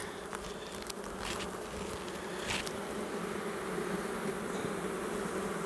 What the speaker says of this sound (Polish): No, pszczół tu jest już naprawdę gęsto.